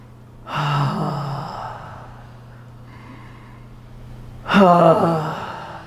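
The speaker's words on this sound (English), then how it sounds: "Now we'll add sound to the breathing." Breathing out with voiced sighs during a laughter yoga exercise: two loud, drawn-out exhalations about four seconds apart, with a soft hum between them.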